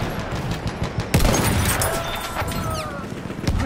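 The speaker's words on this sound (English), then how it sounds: "Machine gun, look like it." Rapid bursts of machine gun fire in the World War I shooter game Battlefield 1, loud and dense with overlapping cracks and booms across a busy battlefield din.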